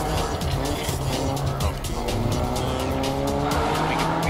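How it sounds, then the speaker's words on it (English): A car in a shooter-style video game roars past with screeching tires and skidding, a loud continuous engine and tire squeal throughout with no voices. "who is driving a car?"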